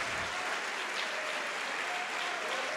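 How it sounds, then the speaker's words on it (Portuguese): Audience applause in a religious teaching session, a brief wash of distant clapping, fairly faint and even throughout. "Então vamos aplaudir ao Senhor Jesus"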